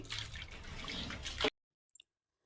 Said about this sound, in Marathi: ही गहू मी ह्या पाण्यात ओतून घेतले आणि ह्या पाण्यातून स्वच्छ धुवून इकडे टाकते